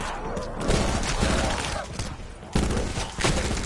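Rapid bursts of automatic gunfire from a gun in Call of Duty 4, loud and dense, in repeated volleys with brief gaps between them.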